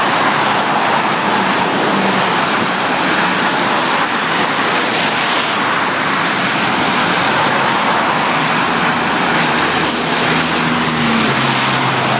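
Steady roar of road traffic, cars driving by on a roadway, a continuous broadband wash with no clear single pass and no talking.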